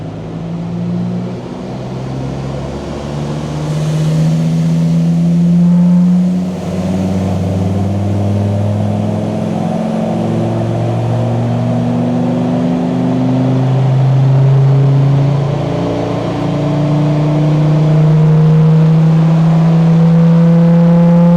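A heavily modified Td5 Land Rover Discovery fitted with a GTB550 turbo makes a full dyno pull. The diesel engine drones loud and steady as its revs climb for over twenty seconds, with no voices.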